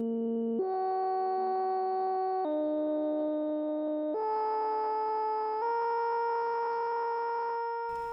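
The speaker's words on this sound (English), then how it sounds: "Now you can hear a subtle wobbling in our oscillator." An iVCS3 synthesizer oscillator modulated by its sampler gives a buzzy, harmonic-rich steady tone that jumps between pitches in distinct steps every second or two, loud and alone.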